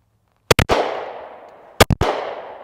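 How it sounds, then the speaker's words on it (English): Glock 19 pistol fired at an outdoor range: two loud, close double bursts of shots about a second apart, each leaving a long fading echo, no talk. "go ahead and shoot the Glock 19 right quick"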